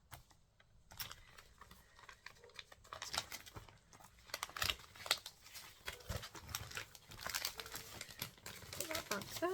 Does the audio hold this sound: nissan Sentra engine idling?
no